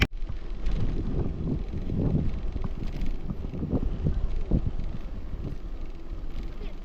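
Steady wind rushes and buffets the microphone outdoors, a continuous low rumble with gusty swells throughout.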